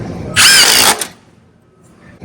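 A Milwaukee M18 Fuel hammer drill whirs loudly and close for a single burst of just over half a second, then spins down into quiet room tone.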